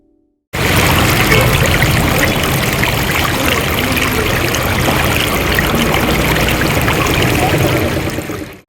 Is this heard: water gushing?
yes